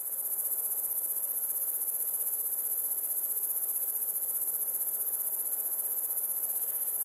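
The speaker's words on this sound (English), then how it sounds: "simply having the cricket sound" A looping cricket sound cue from a game level's ambient area layer plays as steady, even chirring that never stops, loud and alone with no voices.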